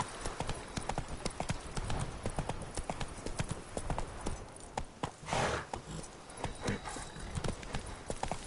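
Horse Roach's hooves in The Witcher 3 clip-clop in a steady, continuous trot at close range and moderate loudness, with faint background game ambience.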